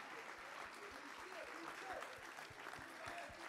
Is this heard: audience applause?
yes